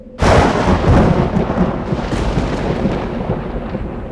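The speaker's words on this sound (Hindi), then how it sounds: "लगता है कोई बहुत बड़ा तूफान आने वाला है।" A heavy thunderclap from an approaching big storm bursts in suddenly and then rumbles on in a long, loud, rolling roar that slowly fades.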